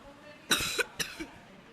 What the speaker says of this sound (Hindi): सॉरी खांसी हो।